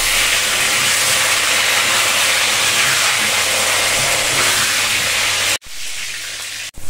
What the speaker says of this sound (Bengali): পেঁয়াজ ভাজাটা হচ্ছে